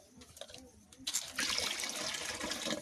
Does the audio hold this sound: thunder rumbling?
no